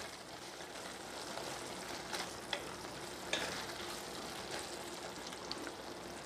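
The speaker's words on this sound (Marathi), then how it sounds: "आता आपल्याला ह्यामध्ये शेंगदाण्याचा कूट घालायचा आहे आणि पुन्हा सगळं व्यवस्थित मिक्स करून घ्यायचे" Green chilli thecha with crushed peanuts fries quietly in a pan and gives a soft, even sizzle. It is broken by a few faint scrapes and taps as the mixture is stirred, and no one speaks.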